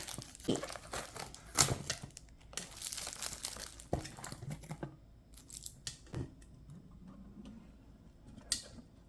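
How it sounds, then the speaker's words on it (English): Packing tape is peeled and torn off thrifted decor, giving close crinkling, ripping and crackling bursts with short pauses between them and no voices. "I hate when they put so much darn tape"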